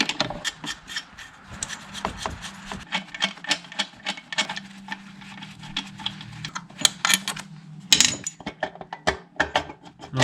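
Ratcheting 12mm wrench breaking loose the valve cover nuts and bolts on a 2003-2007 Honda Accord V6, giving a rapid run of dry clicking and rasping strokes, close and fairly steady, with no talking.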